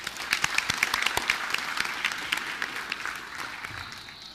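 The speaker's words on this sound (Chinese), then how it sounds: "在旁听席，大家鼓掌欢迎了哈" A gallery audience at the Kaohsiung City Council, including environmental groups and parents' association members, claps in welcome. The applause is a dense patter of many hands, moderately distant, that holds for several seconds and gradually thins toward the end.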